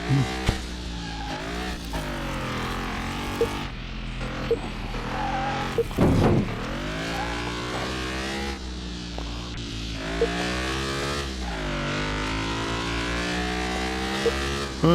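A customer's car in a mechanic video game is driven on a test track. Its engine drones continuously, rising and falling in pitch as it revs and shifts, with one brief louder burst midway.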